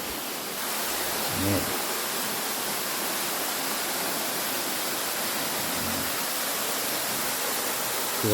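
A small waterfall pours through a gap in the rock, a steady, broad rushing roar that stays even and fairly loud throughout, with faint brief voices now and then.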